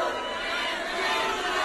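A dense, excited crowd roars and cheers continuously at a São Paulo street gathering during Carnival season, a loud, steady wall of voices with no clear individual words.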